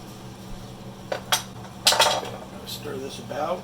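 Spoon scraping and clinking against a pot while skimming rendered fat off simmering sloppy joe meat, a few brief metallic scrapes and taps over a low kitchen hum.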